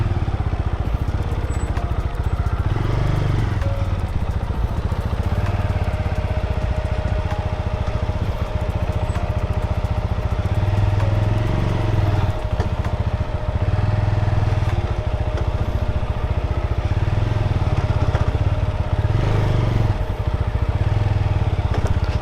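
A motor vehicle rolls slowly along a rough, unpaved dirt track toward an empty beach, its engine a steady loud drone with low rumbling surges and faint clatter throughout, close and continuous with no talking.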